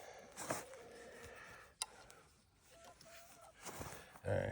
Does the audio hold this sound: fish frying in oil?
no